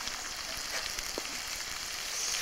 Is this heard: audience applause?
no